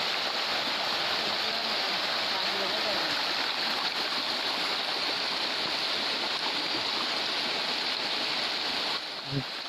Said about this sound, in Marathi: जामच पाणी आलं आहे